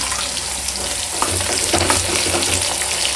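Chopped onions frying in a hot pan for Udupi hotel-style tomato bath, a loud close sizzle that intensifies as they land in the oil, with light stirring scrapes and no voices.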